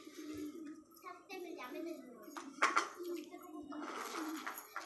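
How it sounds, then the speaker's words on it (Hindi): Pigeons being fed coo softly and repeatedly nearby, their low throaty calls mixing with a voice and a few sharper chirps. "कबूतरों को खाना खिलाती है।"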